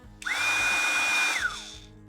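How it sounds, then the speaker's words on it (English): Flextail Max electric air pump switching on with a sharp whine that holds steady for about a second, then winds down, loud and close against quiet surroundings. "this is a pretty nice pump. It's loud"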